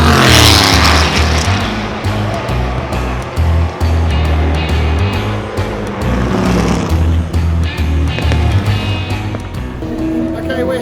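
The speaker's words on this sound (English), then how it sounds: "Okay, we're here watching the GT cars." GT race cars circle the Goodwood Revival circuit, engines roaring loud and close as cars pass and rev, with a TVR among them; people talk nearby over the noise.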